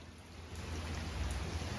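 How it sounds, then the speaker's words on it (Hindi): Rain beginning to fall outdoors where laundry was hung to dry, a steady soft hiss of drops with a low rumble underneath, close and continuous throughout. "ये देखिए जैसे ही मैंने कपड़े हटाए वैसे ही बारिश स्टार्ट"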